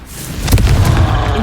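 Confringo explosive spell blast in Hogwarts Legacy, a short loud burst with a booming low rumble and a couple of sharp cracks, close and alone.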